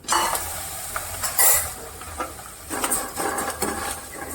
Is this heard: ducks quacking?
no